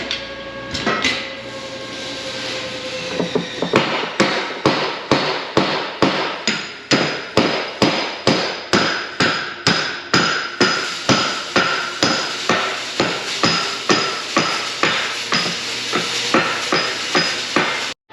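A stock roll puller from Kaz Equipment is hammered on a combine during repairs: a long run of regular, evenly spaced metallic blows, loud and close, with a ringing undertone.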